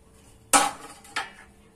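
Paneer and fine sesame powder get mixed in a pan, with two sharp metallic scrapes and clanks of a spoon against the pan, close and isolated over a quiet background.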